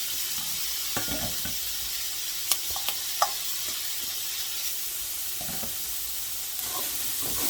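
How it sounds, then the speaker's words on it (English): Peppers and onions sauté in a pan with a steady, hissing sizzle. A few sharp clicks and scrapes of stirring sound nearby. "So now we throw in our peppers and onions."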